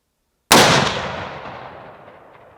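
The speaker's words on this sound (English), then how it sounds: "I'm gonna shoot where the double E's are" A single loud rifle shot from a Tikka rifle fired at a target at a range, a sharp close crack followed by a long fading echo.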